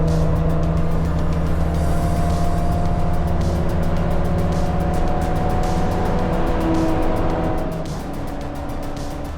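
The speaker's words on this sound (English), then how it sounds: "This is the fastest the Corona went all weekend." A 40-year-old yellow Toyota Corona wagon races flat out in a 25-hour endurance race, its engine a loud, steady sustained drone that holds close and then eases slightly toward the end.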